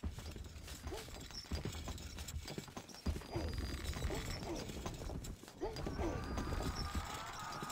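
Horses' hooves clip-clop steadily in Stronghold Crusader, with a whinny breaking through amid dense game sound and a voice speaking over it.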